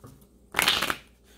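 A single quick riffling burst of playing cards being shuffled, close and crisp, lasting under half a second amid quiet.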